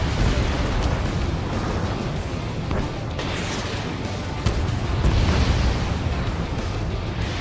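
Explosions from destroying pipeline cells around a bunker in the combat flight game Ace Combat 7, a continuous heavy rumbling roar with repeated deep booms and bursts, loud and close.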